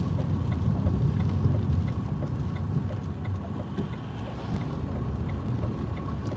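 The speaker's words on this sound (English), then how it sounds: "Oh, the big broad's windy again." Steady, broad wind rumble from Storm Franklin on the Norfolk Broads buffets the microphone, low and continuous throughout with no voices.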